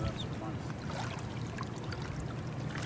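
Ducks quack in short calls over a busy outdoor background of rushing noise, fairly close but not loud.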